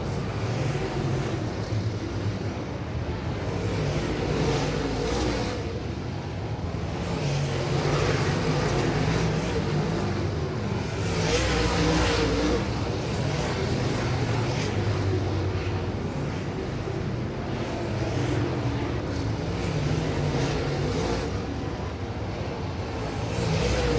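Super late model race cars running the A-main feature at Winston Speedway, a continuous engine roar rising and falling in waves as the cars pass, with no talk.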